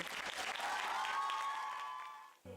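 Loud applause fills a concert hall at a city talent show qualifying round, a dense continuous wash of clapping that swells and then tapers off near the end.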